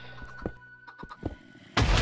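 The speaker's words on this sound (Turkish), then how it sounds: "işte ilk patlama" An explosion in Minecraft lands as a sudden loud, booming burst near the end, after a stretch of quiet clicks and soft in-game sounds.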